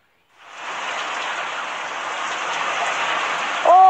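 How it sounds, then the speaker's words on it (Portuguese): Rain falls steadily as a continuous broadband hiss that swells in after a brief silence and holds even, with a short tonal sound at the very end. "tá chovendo!"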